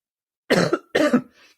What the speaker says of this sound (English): I'm just coughing here.